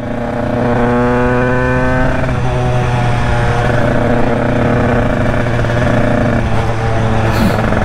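A tuned Derbi two-stroke motorcycle engine with a 96 Bidalot WR setup drones loudly up close, revving unevenly and bogging as it tries to pick up speed, steady and continuous throughout.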